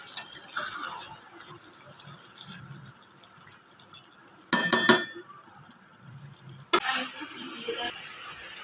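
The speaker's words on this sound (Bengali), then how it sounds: "এবার আমি দুটো কাঁচা লঙ্কা দেবো গোটা, দিয়ে ভালো করে আবারও কষাবো।" Chicken spare parts with whole green chillies stirred in a pan: quiet background with a few sharp bursts of spoon scraping and metallic clinks against the pan, close and intermittent.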